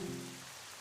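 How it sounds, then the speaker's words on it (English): Rain falling in the video game The Legend of Zelda: Twilight Princess, a steady, fairly close hiss of rainfall under a brief low tonal hum, continuous through the short moment. "So I have to stop the rain?"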